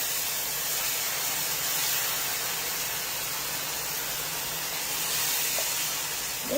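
Broth poured into a hot pan for crawfish etouffee sizzles with a loud, steady hiss that holds evenly throughout with no pauses.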